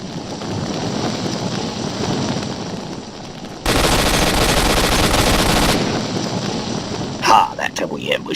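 Gunfire in the video game Stalker Shadow of Chernobyl, a loud sustained burst of rapid automatic shots followed by a few separate cracks, set against a noisy rain-like ambience.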